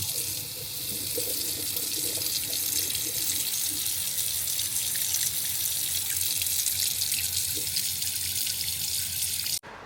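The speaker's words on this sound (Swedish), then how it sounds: "Så här ser trycket i alla fall ut nu med den nya pumpen. 25 liter per minut." Water running steadily from a motorhome tap driven by a new pump delivering 25 liters per minute, a continuous loud hiss and splash held for several seconds before cutting off abruptly.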